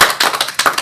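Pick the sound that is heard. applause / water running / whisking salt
applause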